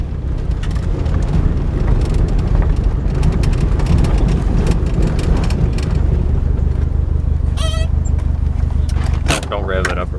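A Datsun B210 engine runs close by with a dense, continuous low rumble and rough idle throughout, with brief voices talking near the end.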